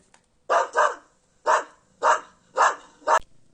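A dog gives a series of about six sharp barks, some paired in quick succession, fairly close with quiet gaps between.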